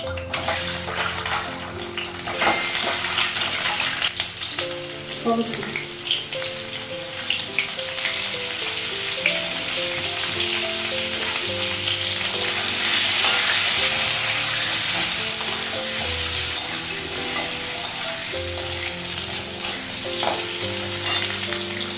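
Food frying in hot oil in a home kitchen, a continuous loud close sizzle and crackle with stirring and clattering utensil sounds, intensifying to a harsher hiss midway.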